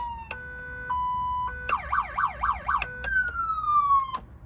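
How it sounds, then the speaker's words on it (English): An electronic police siren cycles through wails, yelps and steady tones over a low engine rumble, played loud through a vehicle loudspeaker. "and then of course I have sirens"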